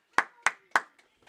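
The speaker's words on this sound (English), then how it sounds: "All right, everybody, go ahead and clap it up." Three sharp, separate hand claps ring out in a slow, even rhythm, close and fairly loud, followed by two much fainter claps.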